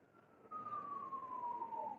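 A distant emergency siren drifts in outdoors, a single faint falling wail sustained for about two seconds.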